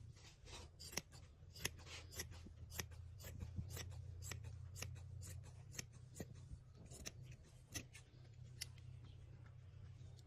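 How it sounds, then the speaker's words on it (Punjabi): Scissors cut 3-inch fabric strips for a kachhehra with a steady series of quiet, crisp snips over a low background hum, close by, with no speech. "ਇਸ ਤਰ੍ਹਾਂ ਆਪਾਂ 3-3 ਇੰਚ ਦੀਆਂ ਦੋ ਪੱਟੀਆਂ ਕੱਟ ਲੈਣੀਆਂ ਨੇ"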